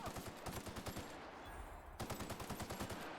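Rapid bursts of acid light pistol fire from The Outer Worlds video game rattle out in fast, evenly spaced shots, pausing briefly mid-clip before another dense volley, with no talking over it.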